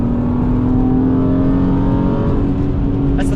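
A high-mileage BMW E36 M3 with a five-speed gearbox runs hard around a rainy track, its engine droning steadily and loudly from inside the car, with a faint hiss of wet tyres and no talk.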